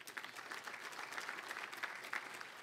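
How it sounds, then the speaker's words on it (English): Audience applause at a city State of the City address, a steady, even wash of clapping from many hands at moderate distance, heard on its own without speech. "Let's give them all another big hand of applause."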